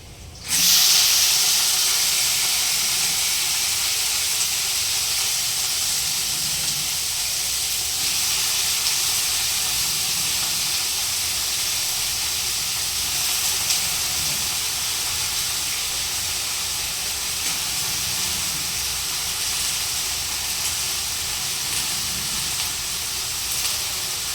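Eggplant pieces hit hot oil already holding chili and garlic, setting off a loud, steady hiss of frying that runs almost unbroken for the whole stretch after a sudden start, with no voices.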